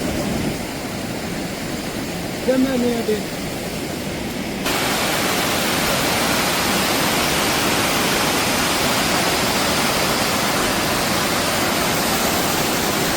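Rushing water of Arippara Waterfalls in Kozhikode, Kerala roars in a dense, constant wash, growing louder partway through as if the waterfall comes closer.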